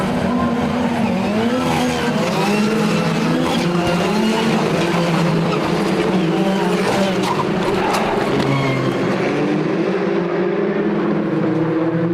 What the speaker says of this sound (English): Engine notes rise, we wait for the lights to turn on.